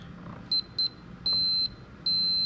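Multimeter continuity test on a 9:1 un-un random-wire antenna build gives four clear electronic beeps: two short ones, then two longer sustained tones, loud and close over a quiet background.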